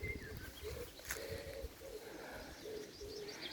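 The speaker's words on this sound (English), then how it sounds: "Lots of birds." Birds sing and call in an English garden in late May, with a pigeon or dove cooing steadily alongside scattered chirps and tweets, layered at moderate distance against a constant outdoor background hum.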